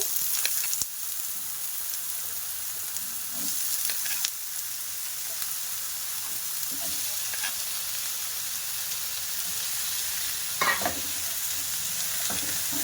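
Garlic cloves and cut potatoes fry together in a pan, a steady oily sizzle punctuated by a few spoon scrapes and stirring knocks, no talking.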